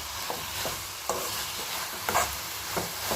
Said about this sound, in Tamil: தக்காளி நல்லா குலைவாக வதங்கிட்டுருக்கு